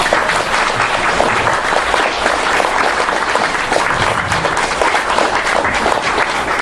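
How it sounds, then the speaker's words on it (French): Sustained audience applause at a political gathering greets Jacques Colombier, a dense and even wash of many hands clapping, loud and close, with no break for the whole stretch. "je vais vous demander d'applaudir Monsieur Jacques Colombier"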